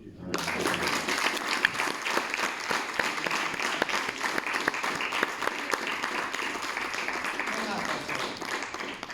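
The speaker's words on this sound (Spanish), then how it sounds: "Un aplauso." Sustained applause from a conference audience, many hands clapping steadily for several seconds with a few voices mixed into the crowd noise.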